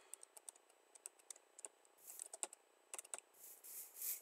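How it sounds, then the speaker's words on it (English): Keys tapped on a laptop keyboard while playing Minecraft Java Edition: quiet, irregular clicks close to the microphone, with short bursts of faster typing and a soft hiss in the pauses, no voices. "I'm using a laptop keyboard,"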